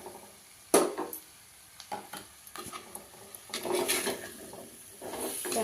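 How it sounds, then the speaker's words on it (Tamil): Pieces of yellow pumpkin are stirred into masala in a pan, giving scraping, shuffling sounds with soft sizzling beneath, including one sharp clatter near the start and busier stirring toward the end. "இந்த மசாலாவில் கொஞ்சம் நல்லா பெரட்டி விடலாங்க"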